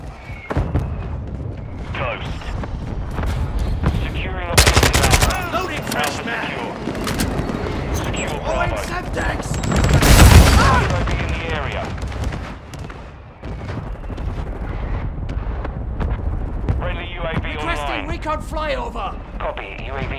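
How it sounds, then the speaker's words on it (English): Mortar strike explosions and gunfire in Call of Duty: Modern Warfare II, with heavy booms and crackling shots running continuously under radio chatter and game voices, swelling loudest around the middle. "Our mortar strike is inbound."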